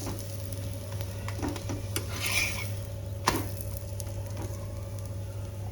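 A palak paneer paratha roasts in ghee on a hot griddle, with steady sizzling and frying, occasional scraping and clinks of a utensil against the pan, close and continuous with no talk.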